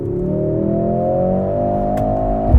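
A 2025 Mercedes-AMG GLC63s, a four-cylinder SUV, drops a gear and goes to full throttle, its engine note rising steadily in pitch as it pulls hard, loud and close from inside the cabin, with a thump near the end.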